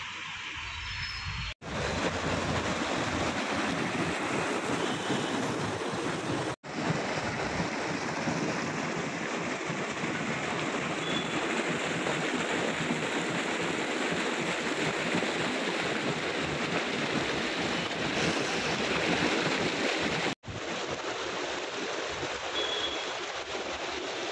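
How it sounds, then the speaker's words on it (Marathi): Steady, full rushing of a stream flowing beside a path near a bridge fills the scene without pause, a broad continuous wash with no voices. "बाजूला छान पाणी वाहतंय."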